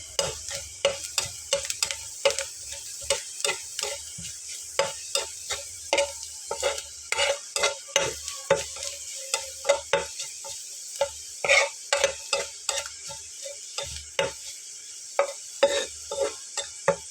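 Mustard frying in hot oil for kakrol (spiny gourd) vorta, a steady sizzle broken by regular clinks and scrapes of a spoon stirring in the pan, close and moderately loud, with no talking.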